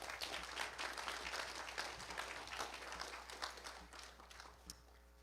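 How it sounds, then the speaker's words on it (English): Audience applause at a ribbon-cutting ceremony for a college of osteopathic medicine, a steady wash of many hands clapping at moderate distance that holds for several seconds and thins slightly toward the end. "Please give another round of applause to Dr."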